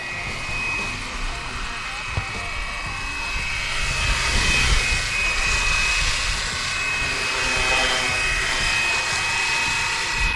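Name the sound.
Fly Wing BO 105 GPS RC helicopter flying in sport mode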